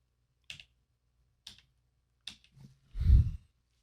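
Keys on a Logitech G613 keyboard are pressed one at a time while a pairing code is entered, leaving three isolated crisp clicks spaced apart, then a heavier thump near the end.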